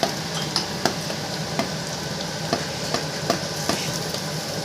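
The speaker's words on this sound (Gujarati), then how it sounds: "એને મસ્ત વઘાર કરી લેવાનો" Steady sizzling of hot oil as a spice tempering for khichdi is made, with a few sharp clinks of a spoon against the pan at irregular intervals, close and moderately loud.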